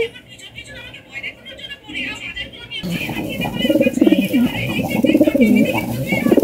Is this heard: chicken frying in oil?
no